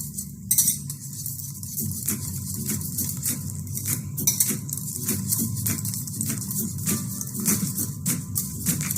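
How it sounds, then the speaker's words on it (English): Eggs whisked in a bowl for a street-food chapati egg roll, a quick steady scraping and clinking of utensil against bowl repeated throughout, with no talk. "Mix it thoroughly."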